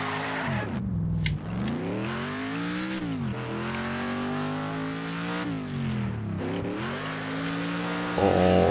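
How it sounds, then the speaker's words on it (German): Car drifting in the Wreckfest racing game, with a loud, steady engine drone rising and falling in pitch as it revs through gear changes, tyres skidding through a long slide, and no talking over it. "Oh, schöner Drift, schöner Drift."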